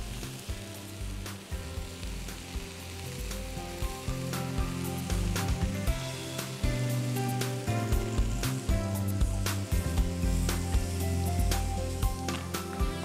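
Barbecue meat sizzles steadily over a wood fire, a continuous crackling hiss with small pops and the occasional clatter of wood being turned, heard close up and alone.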